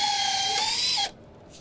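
A power drill drives a screw through a roof truss into the top plates during radiant barrier installation, whining steadily for about a second before cutting off abruptly, close and alone.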